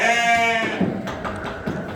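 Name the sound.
goat bleating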